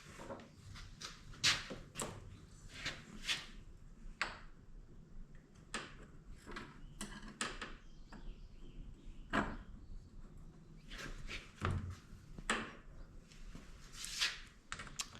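A homemade rear window latch on a Polaris Ranger Rmax, built from welded square tubing with a captured spring, bolts and plastic bushings, clacks and slides repeatedly with sharp metallic clicks and thumps at close range, no talking.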